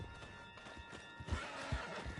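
Horse hooves clip-clopping in Red Dead Redemption 2, faint, irregular thuds over low background noise, growing slightly louder toward the end.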